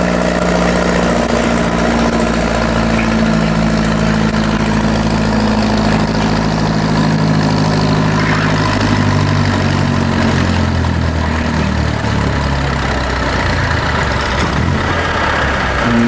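Pulling tractors roar steadily at a county fair tractor pull, loud and continuous, with a deep heavy engine drone that holds for the whole stretch. The pitch shifts slowly as the tractor works down the track.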